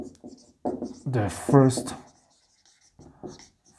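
A pen writes on paper in a maths lesson, light scratching strokes under a voice, which is close and speaks only briefly before a quiet pause.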